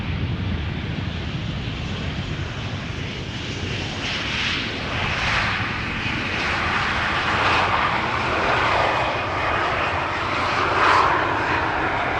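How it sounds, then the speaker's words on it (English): An El Al Boeing 737-900 airliner arrives at Schiphol Airport, its engines a broad, steady roar that swells slightly as it passes, heard from a distance with no voices. "This is El Al, flight 337, arriving from Tel Aviv, 737-900."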